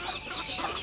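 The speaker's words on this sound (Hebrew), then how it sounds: "גר אבא תרנגול צבעוני וגדול שידע לקרוא בקול" A rooster's call, a brief loud burst of clucking, crowing fowl sound, close and alone.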